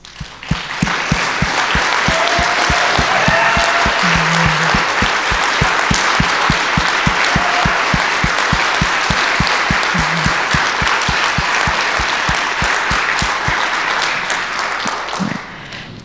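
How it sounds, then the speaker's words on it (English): Sustained applause from a gala audience as award winners stand, steady dense clapping filling the room from start to finish with no talk over it. "I just would like to first ask all the winners to stand up of the awards, and let's give them a round of applause."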